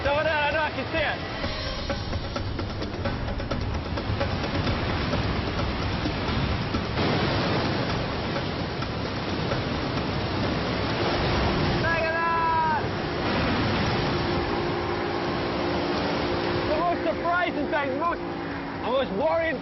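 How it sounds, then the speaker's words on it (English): Tidal bore wave rushing up a large river, its full width of froth roaring as a broad continuous wash, close and loud, with a fast boat's engine running just ahead and voices talking over it. "The most worrying thing is the speed of that wave."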